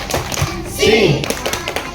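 A group of children on a class outing at a police station clap along to a police clapping chant, quick rhythmic hand claps mixed with chanting young voices and an adult voice, close and fairly loud.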